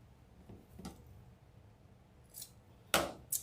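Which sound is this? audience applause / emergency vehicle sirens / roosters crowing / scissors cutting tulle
scissors cutting tulle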